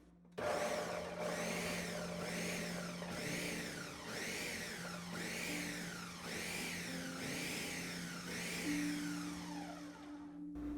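A food processor pulsing a falafel mixture, its motor whirring in about eight repeated rising-and-falling surges with the blade grinding through the mix, close and steady, with no talking.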